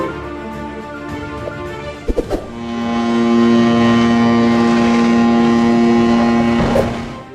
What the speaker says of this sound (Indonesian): proses peluncuran kapal yang menakjubkan